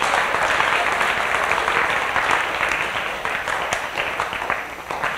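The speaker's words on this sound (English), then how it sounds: "Let's give them a round of applause." Audience applause for volunteers at a talk on institutional racism, a dense steady roar of many hands clapping that stays loud throughout and tapers slightly toward the end.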